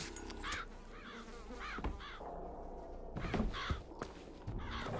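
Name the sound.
birds cawing in video game Bioshock Infinite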